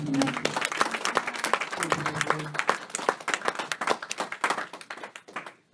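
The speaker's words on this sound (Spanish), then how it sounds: "Den un aplauso, entramos aquí." A church congregation applauds during a Bible study service, dense clapping with some sharp individual claps standing out, voices faintly mixed in, fading out at the end.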